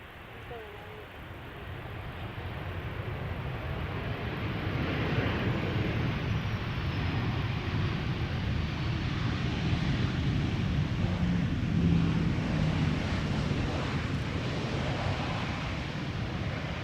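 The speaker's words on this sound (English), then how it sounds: "we have KLM flight 924 arriving from Edinburgh, 737-800, landing here on Polderbaan" A KLM Boeing 737-800 from Edinburgh lands on Schiphol's Polderbaan runway, a broad, steady jet roar that swells and holds for many seconds over the outdoor ambience.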